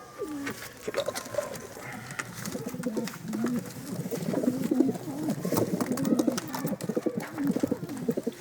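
Native Adana pigeons coo repeatedly in a low, throaty rolling murmur, several birds overlapping continuously at close range.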